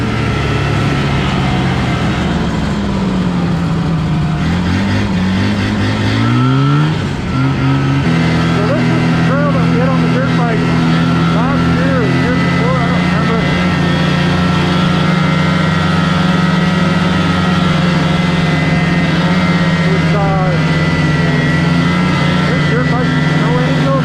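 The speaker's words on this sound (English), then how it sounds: "Saying over the engine of this canoe" Motorized canoe engine running loudly and steadily with a low, rough drone and a brief pitch shift early on, heard close up under continuous talk.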